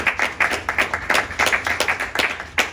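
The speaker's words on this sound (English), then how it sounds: "Give yourself a last round of applause." A small graduating class gives itself a final round of applause, a modest group of nearby hands clapping in loose, uneven bursts with distinct individual claps audible.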